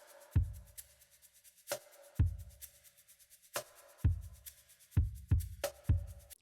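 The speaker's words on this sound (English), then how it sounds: "So in addition to the shaker, we also have a cajon going," A cajon pattern of deep, punchy thumps and sharper slaps in a relaxed groove, with a soft shaker ticking steadily between the hits, close and clear with no voices.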